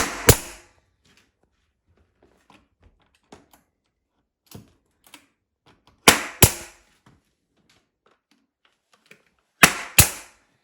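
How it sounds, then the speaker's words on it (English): Pneumatic nail gun driving nails into wooden stair treads during a staircase remodel, with sharp, loud double-crack bursts at three separate moments and faint tapping and handling noises in between. "So it took us a while to figure out how to use my brother's nail gun."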